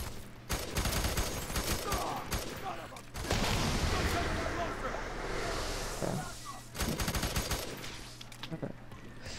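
Video game gunfire from the shooter F.E.A.R. 3 rattles in dense, sustained automatic bursts with brief pauses, loud and continuous throughout.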